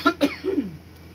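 A few short, abrupt coughs close to the microphone, three bursts in quick succession with a throaty, clearing quality, followed by quiet.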